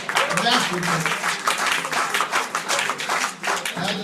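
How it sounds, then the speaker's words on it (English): Crowd applause and clapping fills the space, steady and enthusiastic, with voices mixed in. "Let's give him a round of applause."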